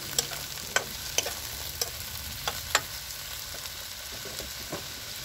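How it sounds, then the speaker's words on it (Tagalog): Potatoes and carrots fry in a pan, a steady soft sizzle with a series of sharp scraping clicks from stirring spaced through the clip, close and fairly quiet with no talk. "Pag na prito natin ng konti ang patatas at saka carrot"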